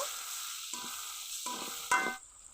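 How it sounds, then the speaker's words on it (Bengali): Bay leaf, chopped onion and garlic frying in a pan give a close hiss with a few sharp bursts as ingredients hit the oil, then a sudden loud sizzle that fades. "দিব তেজপাতা পেঁয়াজ কুচি কড়া রসুন কাঁচা ভেজে নিব"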